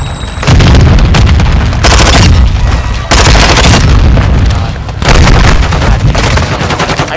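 Loud, dense bursts of rapid gunfire in Call of Duty: Modern Warfare 2 ranked combat, sustained volleys broken by brief pauses, booming and close with no talking.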